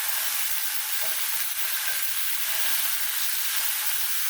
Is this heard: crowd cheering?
no